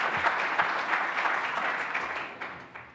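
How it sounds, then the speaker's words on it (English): An audience at a telecom regulators panel applauds its panelists with a steady, dense roll of clapping that continues evenly throughout. "A round of applause for our excellent panelists."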